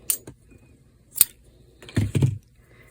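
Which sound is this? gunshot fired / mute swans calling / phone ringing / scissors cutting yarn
scissors cutting yarn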